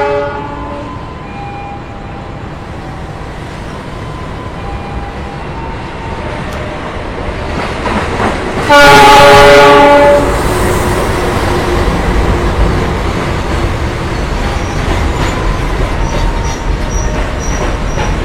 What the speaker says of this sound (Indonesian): yang akan masuk di jalur 3 adalah kereta api Barang, teman-teman. Nampaknya itu kereta api kontainer ya